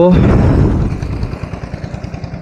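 A Bajaj Pulsar NS 125 motorcycle idles in neutral just after ignition, its low engine pulses thumping at a steady, even rhythm after a brief voice at the start.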